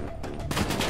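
Gunfire from a Call of Duty Black Ops 3 campaign mission, a dense burst of shots in under a second with a loud crack near the middle over continuous game noise.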